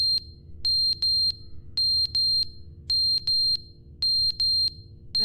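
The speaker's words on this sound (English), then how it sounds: "Look, the smoke alarm is going off." Repeated high-pitched smoke alarm chirps from The Stanley Parable: Ultra Deluxe, coming in short paired and single bursts at a steady rhythm over a low hum.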